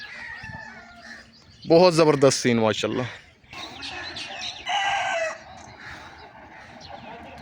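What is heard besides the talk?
birds calling in village area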